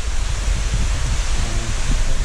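Steady rain pouring down, a constant broadband hiss with low rumble, moderately loud and unbroken.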